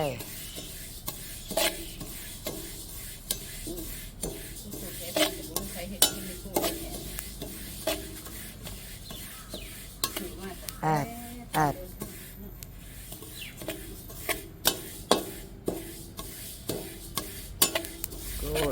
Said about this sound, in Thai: คั่ว งา ขาวก่อน